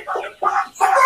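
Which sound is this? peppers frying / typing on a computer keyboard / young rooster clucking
young rooster clucking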